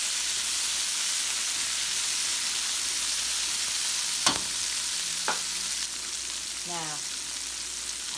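Chicken sautéing in a hot pan for chicken cacciatore: a loud, steady sizzle and hiss throughout, with a few brief clanks and scraping stirs near the end, and one short spoken word.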